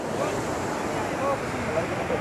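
A steady rushing roar of falling water from Jamjir waterfall, somewhat distant, mixed with wind buffeting the microphone.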